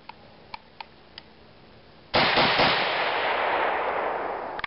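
An SKS rifle bolt is pulled back and released, giving a few light metallic clicks and then a sudden loud clack followed by sustained noisy rushing, with another click at the end.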